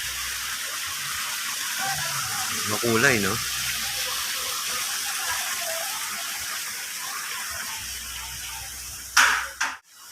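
Water flows steadily in a botanical garden water feature, a constant soft rushing under a person talking briefly, with a few handling bumps near the end.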